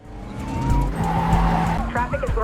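A car driven recklessly during a film chase scene, tires skidding and squealing with engine roar, loud and close, under a voice speaking, with a second screech near the end.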